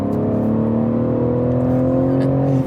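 A BMW S58 twin-turbo engine revs steadily and loudly up close, its harmonic drone holding and gently rising in pitch throughout with no pauses.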